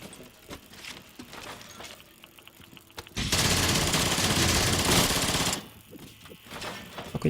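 Gunfire in the Rainbow Six Siege video game, with scattered shots and then a dense, loud sustained burst of automatic fire lasting about two seconds before dropping back to sparse shots.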